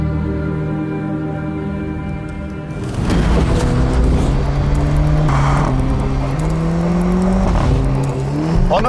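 A Mercedes-AMG A45 S hatchback with a 2-litre engine drives hard, its near, loud engine note climbing and dropping through gear changes, with a steady rumble before a sharper, rising run of acceleration.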